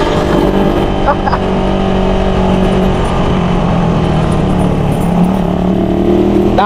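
A Suzuki Raider 150 motorcycle revving while riding, its engine a continuous loud close drone with wind rush, and a voice speaking now and then over it.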